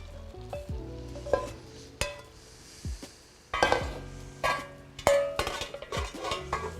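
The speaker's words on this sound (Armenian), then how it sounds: "այստեղ կավելացնեմ կոլոլակները, որոնք նախապես տապակել ենք" Pre-fried meatballs drop into a pot of cooked potato, onion and carrot, setting off bursts of sizzling and frying along with stirring and a few metallic clinks against the pot, close and moderately loud.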